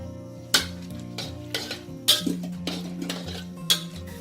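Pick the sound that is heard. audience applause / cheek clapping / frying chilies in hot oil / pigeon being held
frying chilies in hot oil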